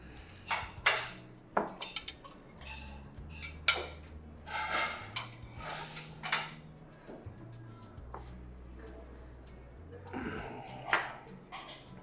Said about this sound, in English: Just grab some more cutlery